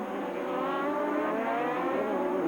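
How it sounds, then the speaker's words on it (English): Toyota Atlantic race car at a 1993 Vancouver street circuit braking into a hairpin, engine note droning and shifting down through the gears toward bottom gear, heard steadily from the car without talk. "All the way down to bottom gear into the hairpin and listen."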